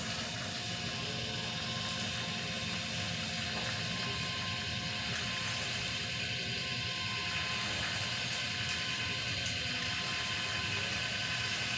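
Popcorn poured slowly into a rotating candied popcorn drum machine from Gold Medal, a steady whirring, rattling mechanical churn with continuous clatter, loud and unbroken throughout.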